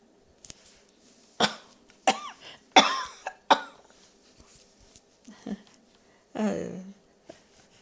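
A person nearby coughs about six times in sharp, irregular bursts, with some throat clearing between them. Quiet pauses separate each cough.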